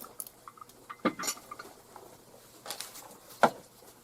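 Little teapot with a built-in strainer being handled, scattered light clinks and taps of ceramic and metal with a few sharper knocks, quiet background otherwise.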